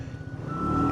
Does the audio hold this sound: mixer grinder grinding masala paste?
no